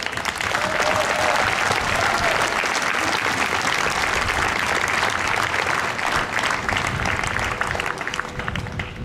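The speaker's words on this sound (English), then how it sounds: "we should all give them a round of applause for running this show" Loud, sustained crowd applause for the organisers and volunteers of an eventing horse show, a thick continuous roar of clapping that stays full and steady throughout, close and unbroken.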